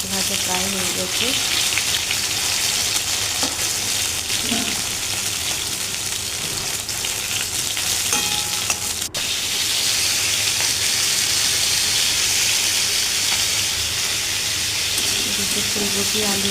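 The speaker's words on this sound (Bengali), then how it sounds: "এদিকে ফুলকপি আলু ভাজা হয়ে গেছে" Cauliflower and potato fry in a pan with onion and green chili, giving a steady close sizzle like light rain, with faint clinks and brief muffled sounds over the constant hiss.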